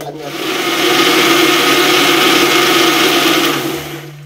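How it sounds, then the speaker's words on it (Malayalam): A kitchen mixer grinder whirs loudly and steadily while grinding appam batter, revving up, holding an even drone for several seconds, then winding down. "മിക്സി ഓഫ് ആക്കി"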